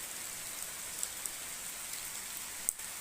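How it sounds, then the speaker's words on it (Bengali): Steady rain falling all around outside a school, a dense even hiss of drops with a couple of brief louder splashes, no voices. "সব দিকে বৃষ্টি পড়তেছে"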